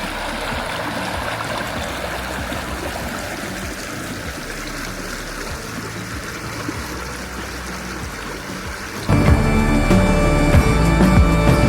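River rushing beside a campsite in the Gila wilderness of New Mexico, a steady loud wash of flowing water that swells louder and closer near the end, with no talk.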